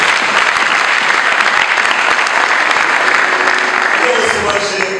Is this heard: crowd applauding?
yes